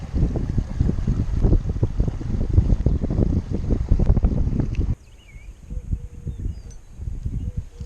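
Gusty wind buffets the microphone with a low roar for several seconds while trout fishing from a bank, then drops to a quieter breeze with faint chirps in the background.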